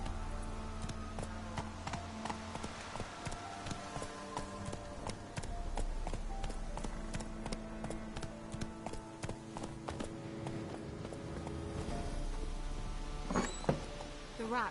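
Roach, Geralt's horse in The Witcher 3, galloping with a continuous drumming of hooves under a busy game soundtrack, steady and moderately loud across the whole stretch.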